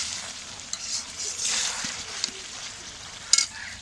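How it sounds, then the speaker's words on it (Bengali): Country chicken meat stir-fried slowly over a low flame on a clay stove, giving a steady soft sizzle with a few scrapes and a sharper clink near the end, no voices. "তাই আমি ভালোভাবে কষিয়ে নিচ্ছি।"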